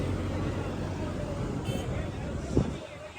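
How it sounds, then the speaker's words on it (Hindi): Crowd at the main gate of Kainchi Dham temple on a busy Sunday, a steady murmur of many voices mixed with passing road traffic, fairly close and continuous throughout. "इधर चारों तरफ भीड़ ही भीड़ है"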